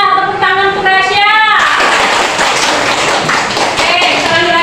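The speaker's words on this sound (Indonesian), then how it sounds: "tepuk tangan untuk Rasya" A school class applauds a student named Rasya: after a brief voice, a loud burst of many hands clapping breaks out and continues steadily to the end, close and full.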